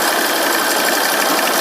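A sewing machine stitches stretchy pajama pants fabric with elastic, a steady, loud, continuous whir of the motor and needle running throughout without pause.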